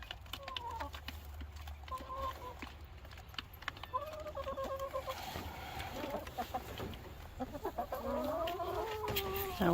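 Chickens cluck and squawk repeatedly in a busy, close-up chorus, with soft rustling and background noise throughout.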